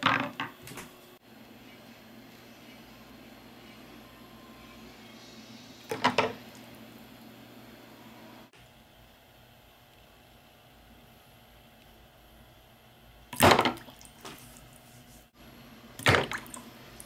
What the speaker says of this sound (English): High CRI, mini CR2 going in the water.